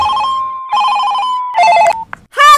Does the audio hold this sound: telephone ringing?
yes